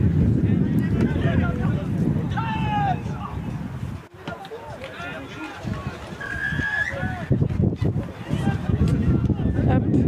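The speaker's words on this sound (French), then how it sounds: "on est en prise avec le vent" Strong wind buffets the microphone at an outdoor touch rugby final in Toulon, a loud, rumbling roar with gusty surges and a brief lull, while voices talk and call across the field.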